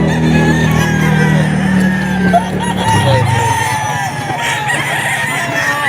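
Boston roundhead gamefowl roosters crow loudly and close at a busy pet market, long drawn-out calls overlapping one another, with clucking and other crowing fainter in the background.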